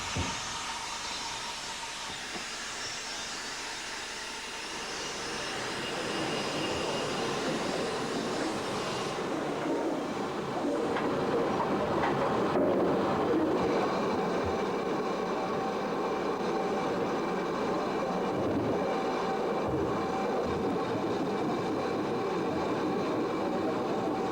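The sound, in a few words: Great Western model locomotives running on railway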